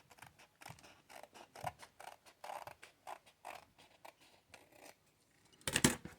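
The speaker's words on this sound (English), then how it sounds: "I find the top the hardest to cut with scissors" Scissors snip repeatedly through flip-flop material in a steady rhythm of short crisp cuts, close up, ending with a louder rustling burst.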